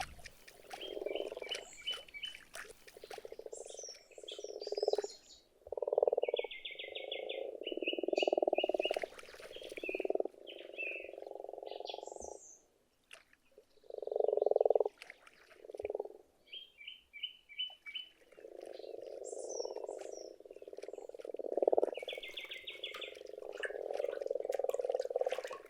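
Grass frogs croak at a pond on a cold early spring night, a chorus of repeated low rattling calls in bursts, with faint high chirps between them.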